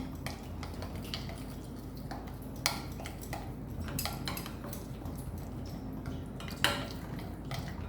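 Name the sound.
mixing mustard oil and turmeric spice paste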